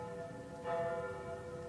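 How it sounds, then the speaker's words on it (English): Church bells ringing across the city of London, a faint tonal bell strike with sustained ringing overtones entering midway over a quiet background. "Bells are ringing from every church in the city."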